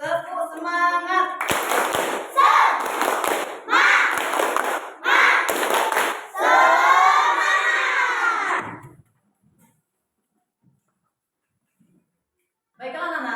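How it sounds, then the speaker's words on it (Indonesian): A classroom of children perform a rhythmic clapping chant, bursts of clapping alternating with loud shouted group chanting, ending in a long drawn-out cheer before falling silent; a voice returns at the very end. "Kita tepuk semangat dulu. Tepuk semangat!"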